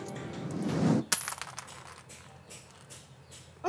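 A coin tossed for good luck at a first transaction lands with a clear metallic clatter and short bouncing rattle near the start, then things go quiet before a brief rustle at the end.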